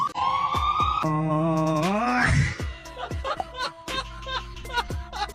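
An ambulance siren wails in a rising and falling tone for about two seconds, then gives way to chuckles and scattered voices.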